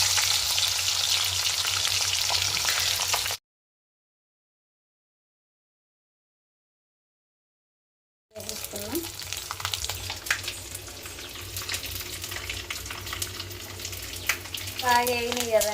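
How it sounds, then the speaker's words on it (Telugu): Dried meat frying in a pan gives a continuous sizzle with light stirring clatter. The sound cuts out to silence for about five seconds, then the sizzle resumes along with scraping and faint background noises. "ముందుగా అయితే వట్టి ఫ్రై చేసుకోవాలి."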